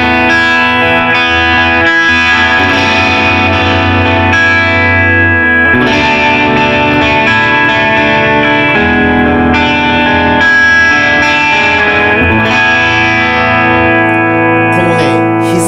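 Electric guitar played through a JOYO Sweet Baby Overdrive pedal, loud sustained overdriven chords and notes ringing steadily with warm distortion, close and alone without talk.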